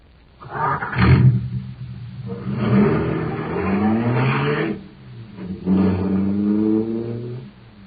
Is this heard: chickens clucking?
no